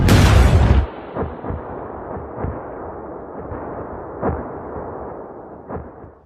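Explosion of a suicide bombing in a film scene: a loud, sudden blast opening the clip, followed by a long rumbling decay with scattered thuds and crackling debris sounds.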